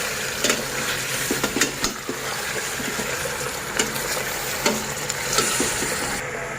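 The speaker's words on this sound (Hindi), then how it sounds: "हम मटन को अच्छी तरह इसके अंदर भूनेंगे।" Washed mutton frying with onions in a karahi gives a loud, dense sizzle, with sharp spoon scrapes and clanks against the pot as it is stirred and no voices.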